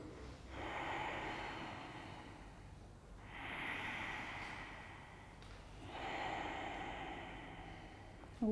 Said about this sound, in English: So we're breathing.